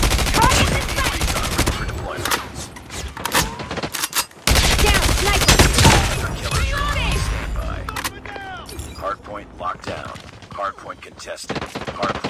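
Dense gunfire from a ranked Hardpoint multiplayer match in Call of Duty Mobile, with rapid automatic bursts and loud shots stacking over one another, briefly cut off midway, while voices and game announcer lines sound underneath.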